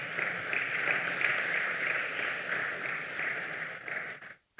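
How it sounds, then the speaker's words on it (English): An indoor audience at a university research and innovation week event claps steadily to welcome a scholar to the stage. The applause is dense and even, then stops abruptly near the end. "Please welcome him with hearty claps."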